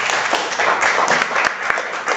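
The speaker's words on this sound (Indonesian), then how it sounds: "Tepuk tangan." An audience at a madrasa event in Ponorogo claps in a short, dense burst, with a few sharp individual claps standing out near the microphone over about two seconds.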